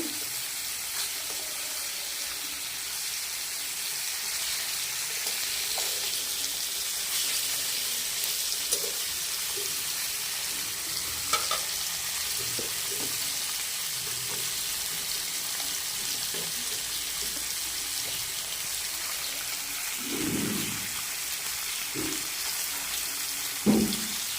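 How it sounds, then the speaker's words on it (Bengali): Hilsa fish frying in oil in a home kitchen, a steady broadband hiss of sizzling oil with scattered soft clinks and a few louder knocks near the end. "এই দেখো ভাজতেছি"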